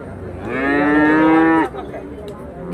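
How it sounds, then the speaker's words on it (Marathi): A Khillar bull at a livestock market lets out one long, loud, deep moo lasting about a second, then a quieter murmur of background noise follows. "मुद्दाम बाजारात दाखवण्यासाठी आणलेले बैल आहेत"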